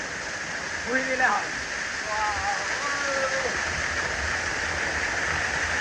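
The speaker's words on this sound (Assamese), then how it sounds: "নেচাৰেল পানী আৰু ওপৰৰ পৰা ডাইৰেক্ট পানী পৰি আহে" Natural water pours straight down from above at night in a field, a steady broadband rush that runs unbroken from start to end while someone speaks briefly over it.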